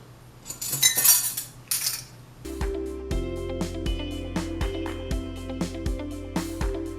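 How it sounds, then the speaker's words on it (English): Dry ingredients being mixed into flour in a bowl for a cinnamon orange cranberry cake: a muffled rustle at first, then a quick steady run of metallic clinks and taps of a utensil against the bowl, close by and without talk. "we're gonna mix these around in our flour"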